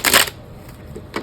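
A deck of tarot cards being shuffled, one loud riffling burst at the start and a shorter one near the end, close and alone.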